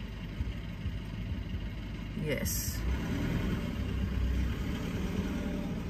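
A neighbour's car engine next door idles as a steady low rumble throughout, with a person speaking briefly over it.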